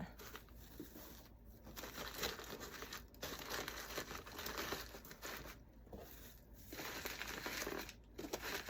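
Easter shred paper is crinkled and rustled by hand inside a tall gift basket, close and quiet, in irregular bursts of crackling broken by short pauses.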